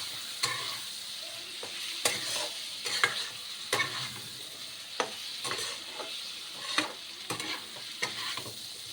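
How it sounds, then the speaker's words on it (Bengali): Boiled eggs and diced potatoes fry with turmeric in a pan, giving a steady sizzle broken by sharp scraping strokes of a spatula at uneven intervals, close and fairly loud, with no talking. "ডিমটাকে আলুর সাথে ভেজে নিই"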